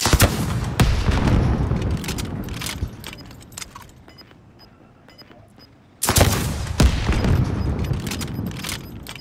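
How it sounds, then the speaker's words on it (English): Rocket launched in Call of Duty: Modern Warfare, heard among loud, close blasts and crackling gunfire; the din thins into a quieter stretch before a sudden heavy boom kicks in again near the end. "I'm about to fire him up with this rocket and move him."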